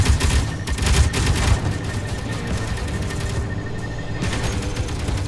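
Rapid turret gunfire in a Mars-set video game, loud dense bursts of automatic shots with booming impacts, a brief lull near the end before the firing resumes.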